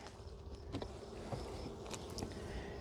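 Honeybees buzzing around an open hive during an inspection, a soft continuous hum with a few brief louder passes of individual bees close by, faint overall.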